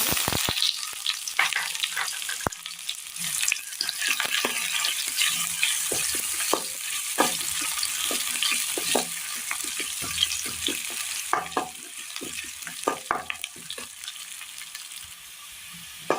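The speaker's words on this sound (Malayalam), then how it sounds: "ഉള്ളി ഒന്ന് മൂത്ത് വന്നിട്ടുണ്ട്." Onions with mustard seeds fry in a pan for a Kerala curry, producing a long, steady, close sizzle with intermittent stirring clicks and scrapes and no voices.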